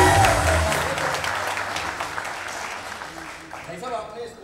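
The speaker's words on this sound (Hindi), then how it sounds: "जोरदार तालियां हो जाए" Studio audience applause on a comedy show, loud at first and gradually thinning, with a tonal musical sting at the start and voices and crowd noise mixed in toward the end.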